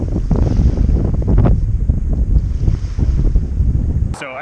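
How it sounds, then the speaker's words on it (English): Heavy wind buffets the microphone on a jetty in a loud, continuous low rumble with gusty surges, ending in a short high squeak. "it was super windy,"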